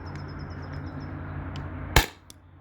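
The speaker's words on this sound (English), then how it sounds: "I'm going to switch the mag and be using alien play rounds right now. So next shots." A Grimburg Jul V3 marker on a high-pressure air tank fires one sharp, loud shot of Alien Play rounds, heard close up over a steady mechanical hum with a few faint beeps before it.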